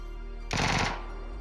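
A PUBG decoy grenade goes off in the game, imitating gunfire with one short, loud, dense burst of rapid shots lasting about half a second, then a low steady background hum.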